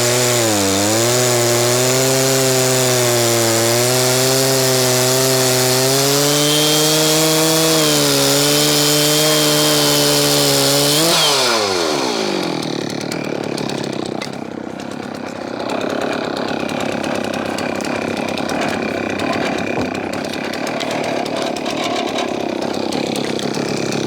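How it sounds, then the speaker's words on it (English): A chainsaw with a low-profile GB milling bar on a Logosol mill cuts a softwood log, droning loud and close with a wavering pitch for about eleven seconds before cutting off, leaving quieter rustling and mechanical noise. "most of the chainsaw milling I do now is softwood"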